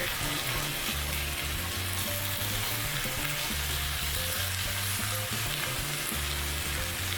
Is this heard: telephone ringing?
no